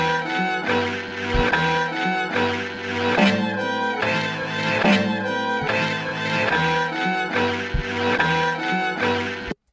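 An FL Studio beat passed through a parametric EQ that trims the highs. Punchy kicks and sustained synth chords loop steadily and loud until a sudden stop, with no talking.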